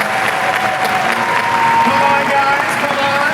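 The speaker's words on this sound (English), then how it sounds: "Please give them a round of applause as they come up here." Audience applause at the D23 Expo 2019 welcoming four volunteers onstage, steady dense clapping with some cheering throughout, while a host speaks over it encouraging them forward.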